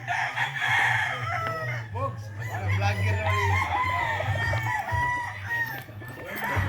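Several fighting roosters at a game farm crow loudly and repeatedly, calls overlapping near and farther off, with clucking and a steady low hum underneath.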